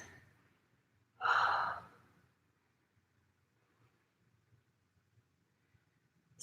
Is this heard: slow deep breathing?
yes